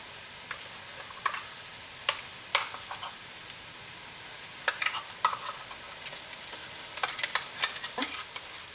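Ground paste fries in oil with turmeric for tomato rice, a faint steady sizzle broken by irregular sharp ticks and clicks of a spoon against the pan.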